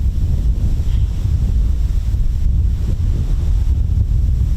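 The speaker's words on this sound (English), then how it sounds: "Wow, that's really bad wind at the moment. Very strong gusts." Strong gusty wind buffets an outdoor microphone at an airfield, a loud, continuous low roar that surges and rumbles without a break, with no voices.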